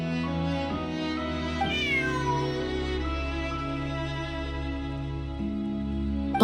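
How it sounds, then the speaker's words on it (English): Bonnie, a cat in Genshin Impact, meows against a steady bed of tonal game music, the cry rising and falling once in the middle of the sustained background. "Bonnie is Pierre's cat."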